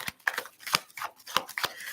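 Tarot cards being shuffled by hand in a series of crisp, papery riffles and slaps, close and fairly quiet, arriving in irregular bursts with short pauses between them.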